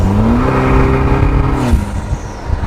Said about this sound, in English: the sound of that turbo and the way it spools up